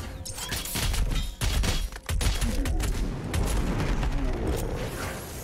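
Gunfire from the Doom video game: a dense, continuous barrage of loud shots and impacts with mechanical clatter, filling the whole stretch with brief dips between volleys.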